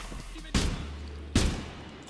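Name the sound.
gunfire through the floor in the video game Exfil Zone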